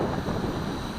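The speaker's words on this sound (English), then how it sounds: "Whoa, okay, it's quite strong wind." Strong wind buffets the microphone outdoors during an RC helicopter flight, a steady, loud rushing roar with no pauses or voices.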